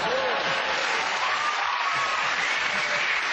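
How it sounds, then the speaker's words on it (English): Studio audience at a comedy panel show applauds, a dense, steady burst of clapping and cheering that fills the whole span. "The Potter crowd are in tonight"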